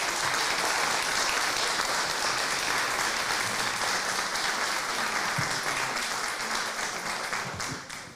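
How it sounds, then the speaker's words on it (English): A conference audience applauds its speakers in a dense, sustained wash of clapping that holds steady, then gradually thins and fades toward the end. "Please give a final round of applause to our fantastic speakers."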